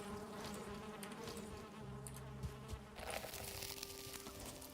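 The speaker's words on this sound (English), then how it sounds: "This was the meadows for bees, apparently." Bees buzz in a meadow, a dense, continuous hum of many insects close by, with individual buzzes swelling and fading against steady outdoor background noise and no speech.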